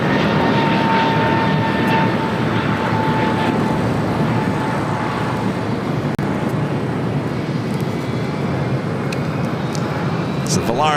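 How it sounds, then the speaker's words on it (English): Volaris Airbus A320 jet arriving from Guadalajara at LAX, a loud continuous engine roar passing close overhead with a faint whine, sustained throughout and unbroken by speech. "Valaris A320 now crossing over this flight coming up from Guadalajara, flight 1718"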